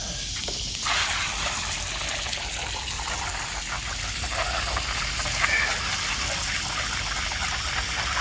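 Steady, hissing spray of water from a hose rinsing old boat parts outdoors, continuous and close, with a faint pumping or engine hum beneath.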